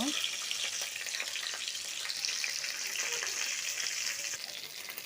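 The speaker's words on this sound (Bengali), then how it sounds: "প্রথমে এখানে তেল দিয়ে দিব তারপর কিছু গোটা জিরে দিয়ে দিব" Whole cumin seeds sizzle in hot oil, a quiet but steady crackling hiss that holds evenly with a few small pops before easing off at the end.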